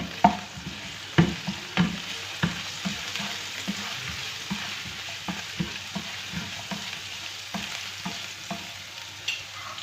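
Japanese kabab pieces fry in a pan with a soft, steady sizzle, punctuated by regular clacks and scrapes of a spatula stirring and turning them; close and moderately quiet, no voices.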